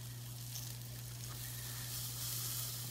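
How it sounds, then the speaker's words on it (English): Whitefish bacon burgers sizzle steadily on a stove, a soft, constant crackling hiss with a low steady hum underneath and no talking. "Burgers are roasting nicely."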